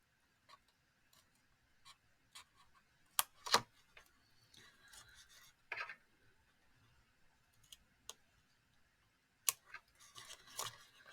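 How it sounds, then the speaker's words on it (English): Card pieces being cut away with scissors while making a coaster box: sparse, sharp snips and clicks scattered irregularly, quiet and close, with no talking. "I'm just going to cut away the pieces that we don't need"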